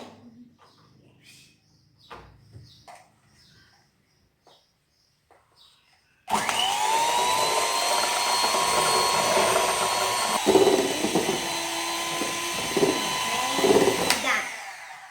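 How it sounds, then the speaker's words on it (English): An electric mixer whirs loudly and steadily for several seconds while mixing ice cream powder, starting abruptly after quiet handling noises and clattering against the bowl now and then before it stops. "Now we're gonna mix it. We have this mixer here."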